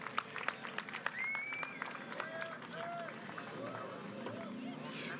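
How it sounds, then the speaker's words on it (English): Crowd applause at a para surfing championship medal ceremony, outdoors: scattered sharp claps, bursts of cheering and rising whistles, mixed with voices over a steady background. "Big round of applause."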